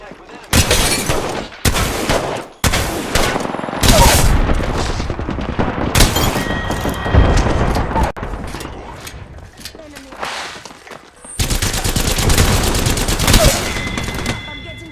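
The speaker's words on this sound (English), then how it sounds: "I'm getting shot at." Video game gunfire from what seems a shotgun-and-sniper match rings out in sharp bursts and rapid volleys, loud and close, with brief pauses between the clusters of shots.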